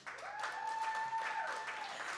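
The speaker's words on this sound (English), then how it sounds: "So round of applause for Celeste" Short burst of audience applause on a talk show, faint and soft, with a sustained whistle-like tone riding over the clapping.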